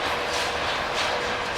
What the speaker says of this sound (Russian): Вот там вот что-то трещит в этом поезде капитально.